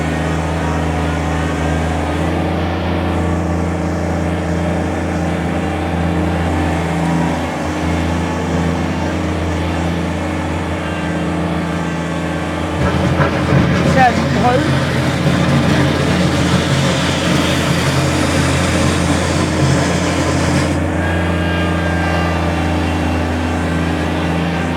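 A 2020 Kubota BX23S sub-compact tractor loader backhoe, 4x4, runs its engine steadily in high range, a loud continuous drone that grows rougher and stronger midway before settling back.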